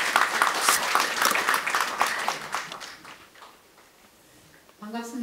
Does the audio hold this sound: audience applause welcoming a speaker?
yes